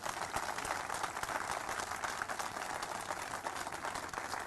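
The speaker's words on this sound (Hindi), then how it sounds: "फिर तो जोर से तालियां बजा दो।" A crowd applauds steadily at a public ceremony marking the naming of Hisar airport, a dense continuous wash of clapping lasting throughout at even loudness, with no clear voices standing out.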